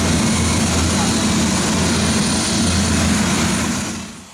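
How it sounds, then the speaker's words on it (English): A loud, steady helicopter engine drone with a rhythmic rotor thump fills the clip, heard close up from inside the cabin on a flight over the Grand Canyon, with faint talk underneath. "a helicopter ride over the Grand Canyon"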